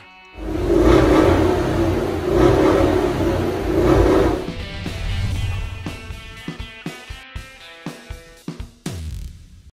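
A powerful 4.2-liter twin-turbo V8 in a Cadillac CT6 Blackwing roars through a long, loud rev, then settles into a series of sharp, crackling throttle blips that get quieter.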